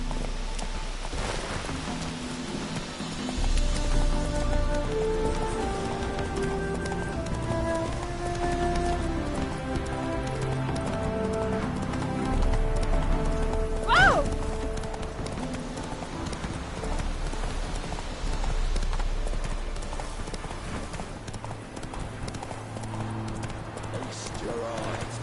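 Roach the horse galloping through rain in The Witcher 3, a steady rhythmic clip-clop of hooves under a hiss of rainfall, with a brief sharp cry partway through and voices speaking over it.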